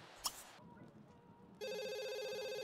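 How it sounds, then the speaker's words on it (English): A landline telephone rings in The Sims video game, a steady electronic trill that starts partway through and continues loudly to the end after a brief sharp noise and a quiet stretch. "The landline ringing can't be good"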